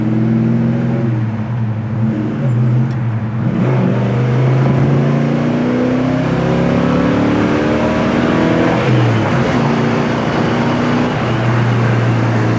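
A 1969 Chevelle SS 396 convertible's V8 engine drives close by with a loud, deep rumble, its pitch climbing and dropping through gear changes. No voices.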